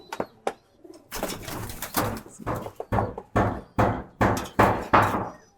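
Pigeons, one adult among young birds, coo close by in a series of about nine rhythmic, throaty bursts with short pauses between them.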